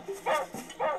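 A dog in Zelda: Link's Awakening barks twice in quick succession, short, bright and close, with a brief yip between.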